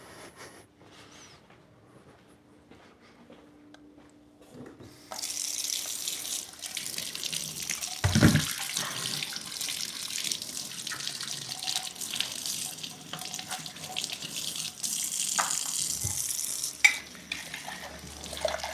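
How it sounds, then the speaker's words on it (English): Kitchen tap turned on, a steady rushing stream of water starting after a few quiet seconds and continuing to the end, with a few clunks and handling noises along the way. "Let me get some water."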